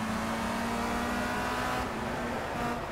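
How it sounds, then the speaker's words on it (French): Race car engine in the Project CARS video game, a steady loud drone with a strong held tone as the car launches off the start line, continuous and close for the whole span with no voices. "Et en lâchant l'embrayage, on a pris un très bon départ."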